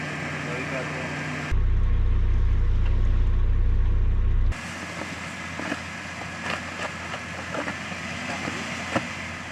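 A Jeep with unlocked differentials strains against rocks while bellied out on a trail, its engine rising into a loud, steady roar for a few seconds before dropping back to a rumbling idle with clattering and knocks.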